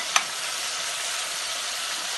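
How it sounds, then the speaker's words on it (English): Mushrooms with ginger, garlic and ketchup sizzle in a hot pan as they are stirred, giving a steady bright frying hiss after one quick clack of the utensil at the start. "For the mushrooms, I have the ginger, garlic, and ketchup. I'm going to give that a stir."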